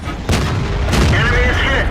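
A tank shell strikes an enemy tank in the World of Tanks video game, heard as a sharp loud boom followed by a second impact and a rumbling tail.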